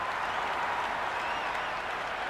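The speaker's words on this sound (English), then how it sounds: "The crowd are really getting quite raucous." Steady, dense applause from a raucous cricket crowd at a Big Bash match between Brisbane Heat and Melbourne, a continuous wash of clapping at even loudness throughout.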